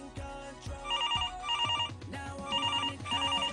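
An electronic telephone ringtone trills in repeated bursts, clear and close, with a brief pause between rings.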